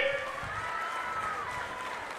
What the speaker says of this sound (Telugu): ఇచ్చుంటే గట్టిగా చప్పట్లు కూడా చెప్పండి.